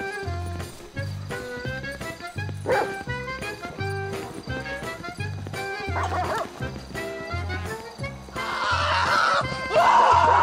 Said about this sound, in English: Goddamn Rottweilers running around. Yeah, there's guard dogs.